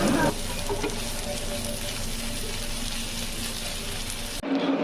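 Steady close sizzling of chillies, onions, curry leaves, turmeric and ginger paste frying in oil, with a brief stir near the end.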